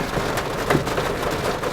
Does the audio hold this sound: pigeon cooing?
no